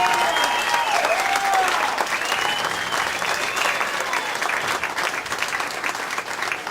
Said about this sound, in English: You stood up, and you should give yourself a round of applause.